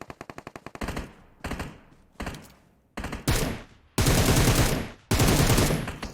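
Automatic gunfire from a shooter video game while shooting bots: rapid rattling bursts, first a quick string, then several short volleys, ending in long sustained loud sprays.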